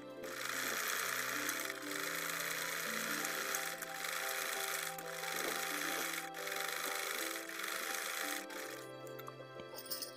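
A sewing machine stitches a chalk-marked seam on a ladies' suit, a close, steady mechanical whirr with rapid needle rhythm, pausing briefly mid-run and slowing near the end.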